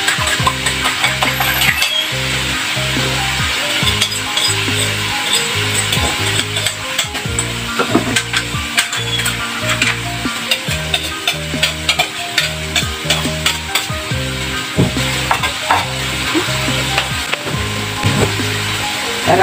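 Egg frying with bitter gourd in a pan, a steady loud sizzle under repeated stirring and scraping clatter throughout, no talk.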